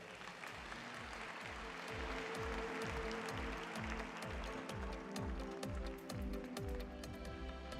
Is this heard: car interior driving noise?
no